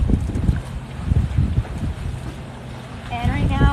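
Cruising catamaran sailing in about 13 knots of wind: rough rumbling wind buffeting and water rush close to the microphone, with a voice speaking near the end.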